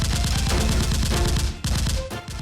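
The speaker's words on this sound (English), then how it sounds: "A gunfight ensues." Dense rapid gunfire in a gunfight, a continuous rattle of closely spaced shots like automatic weapons, loud and near, with a brief dip in the barrage before it resumes.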